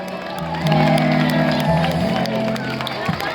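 Outdoor crowd at a Saint-Jean-Baptiste celebration in Sainte-Agathe clapping and cheering for an introduced official, scattered claps and whoops over a steady sustained tone, with a voice speaking over the noise.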